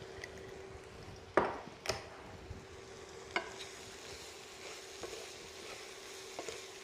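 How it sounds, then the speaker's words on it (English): Arborio-style rice toasting in a hot pan with cooked-down mushrooms for risotto, a soft steady sizzle with a few sharp scrapes and stirs of a utensil against the pan, close and fairly quiet. "So I like to toast the rice a little bit."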